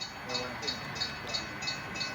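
HO scale model steam engine pulling a mid-1970s unit grain train up a grade on a layout, a steady rolling rumble with a soft repeating chuff or click about every third of a second, close by and fairly quiet.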